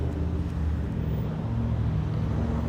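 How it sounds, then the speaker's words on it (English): Steady road traffic outdoors, a continuous low rumble of cars with no distinct pass-bys, constant and moderately loud throughout. "I feel like here there's just car noises."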